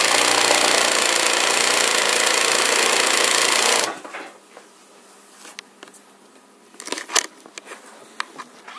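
Carpet binding machine serging 1¼-inch wraparound tape onto a piece of carpet, a dense rapid mechanical chatter that runs loudly for nearly four seconds and then stops, leaving faint scattered clicks and handling noises.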